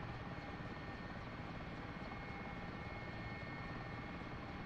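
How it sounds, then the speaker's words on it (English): A Mi-8 helicopter in the DCS flight simulator gives off a dense, unbroken rotor and turbine roar. The drone stays steady and low-pitched, quiet in level and alone, with no voices over it. "You'd hear your rotor system speeding."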